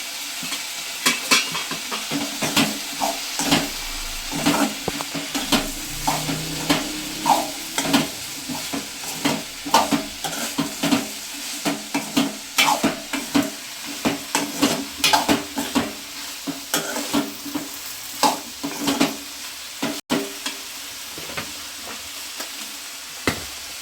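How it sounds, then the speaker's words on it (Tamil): Tamarind and onions for an onion chutney sauté in a pan, giving a steady sizzle broken by frequent scraping, clattering stirs of a spoon against the metal, loud and close throughout. "அது பிளேட்டு பிடிச்சி போட்டு இந்த இதோடையே சேர்த்து வதக்கிடுவோம்"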